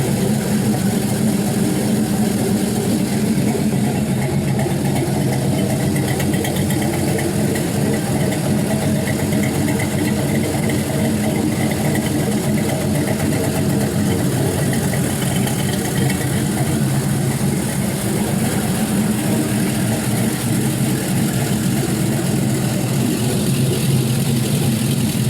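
A 6.0L LS V8 engine idles steadily as it warms up on a run stand, a loud, even rumble held for the whole stretch with no voices.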